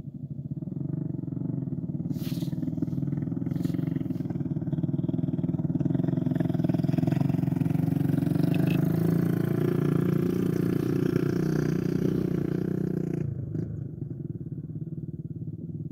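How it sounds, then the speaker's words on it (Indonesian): A motorcycle passes along a roadside beside a toll road land-clearing site, its engine droning loud and steady for most of the stretch before fading out near the end. "Tadi ada motor ya lewat"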